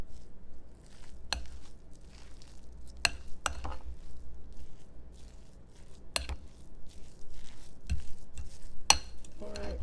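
A spoon works through salmon croquette mixture in a bowl, giving soft wet stirring and occasional sharp clinks against the bowl, fairly close and moderately quiet.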